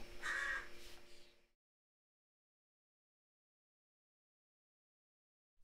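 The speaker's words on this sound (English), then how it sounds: "listen to our crows and our rooks. We have both out there at the moment" Crows and rooks give loud, harsh caws in a short burst of about a second and a half, followed by a long silence.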